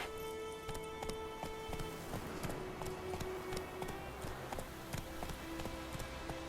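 Roach the horse galloping in the game The Witcher 3: Wild Hunt, a steady, fairly quiet run of rhythmic hoofbeats with faint ambient tones behind.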